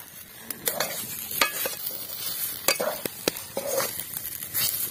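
Potato chop mixture seasoned with garam masala stirred in a pan during village-style chicken chop cooking, with close irregular scraping strokes and a soft sizzle beneath, no talk.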